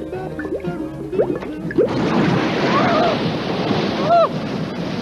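Water gushes from taps in a cartoon with a broad, steady rushing wash. Short squeaky cartoon effects and vocal sounds come before and over it.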